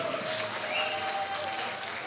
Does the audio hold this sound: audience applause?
yes